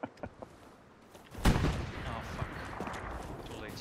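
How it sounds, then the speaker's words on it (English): Aircraft strafing run in the World War II game Hell Let Loose: a sudden loud burst of gunfire erupts partway through, then continues as a dense, sustained rattle of shots and impacts. "strafing run"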